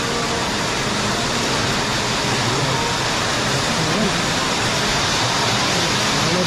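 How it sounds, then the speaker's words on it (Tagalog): Sudden heavy rain downpour, a dense steady roar of broadband hiss that stays loud and unbroken throughout, with faint voices buried beneath the noise. "May bagyo ah. Parang may bagyo tayo ah. Biglang buhos."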